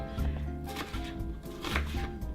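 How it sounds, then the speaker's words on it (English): A knife chops an onion on a board with a few crisp, irregular strikes, set against a steady tonal background hum. "we're going to peel the onion, we're going to chop the onion"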